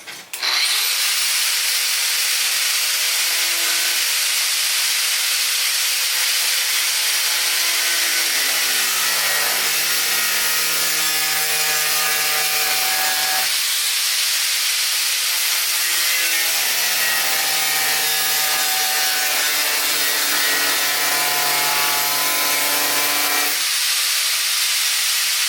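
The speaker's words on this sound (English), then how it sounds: "we have to cut these welds in order to get the transom out" A loud, continuous grinding whine comes from a power tool cutting through welds on the aluminum transom of a Bass Tracker boat, its pitch shifting as the tool bites and eases off in two long passes.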